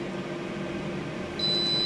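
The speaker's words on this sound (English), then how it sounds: "it's reached the time. Little audible uh, signal, just like you would get on a microwave" A Tefal Easy Fry and Grill XXL air fryer sounds a steady high electronic timer beep over its continuous fan whir and hum, close by, with no talking.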